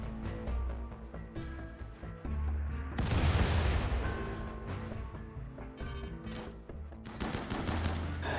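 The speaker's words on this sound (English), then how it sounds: "We'll see how good our turrets come up against these guys." Automated turrets open fire on raiders in the colony game RimWorld, a loud burst of game gunfire and booms that swells mid-clip over a steady musical backdrop, with no talking.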